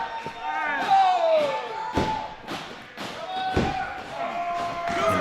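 Heavy thuds and slams of a wrestler's flying headbutt landing on the ring mat at a live RWA pro wrestling event in Spokane, several impacts over crowd noise and a commentator talking.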